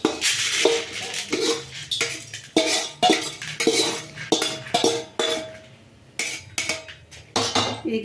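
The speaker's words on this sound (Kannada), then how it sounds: "ಈಗ ನಾನು ಇದನ್ನು ಪ್ಲೇಟಿಗೆ ತಗೊಳ್ತಾ ಇದ್ದೀನಿ." Roasted chutney powder ingredients are scraped from a pan onto a plate, a series of loud metallic clinks and spoon scrapes in uneven bursts with a faint sizzle underneath.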